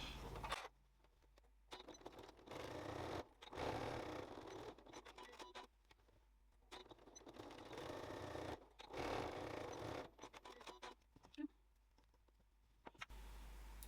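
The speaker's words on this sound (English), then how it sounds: "So let's top stitch down here." Sewing machine top stitching a striped back lining panel for a zip wallet runs in several short bursts, a close, quiet whirring with brief pauses and faint handling clicks between runs.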